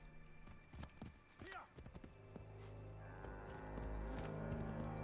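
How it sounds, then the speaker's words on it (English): Horse galloping in Assassin's Creed 3 Remastered through the wetlands of colonial Boston, a steady rhythmic clip-clop of hooves growing louder and denser as the pace picks up, with brief game sounds early on. "Come on, horse, you can gallop,"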